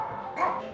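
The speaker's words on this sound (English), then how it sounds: "She's never made that noise before." An injured dog with a broken back, hit by a car, gives a single short, odd, hoarse bark-like yelp at close range, heard alone.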